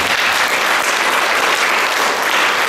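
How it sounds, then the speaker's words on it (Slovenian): A dense burst of applause from a cinema audience after a film screening at Kino Domžale, loud and continuous throughout with no pauses or voices. "En aplavz za Petra Slička."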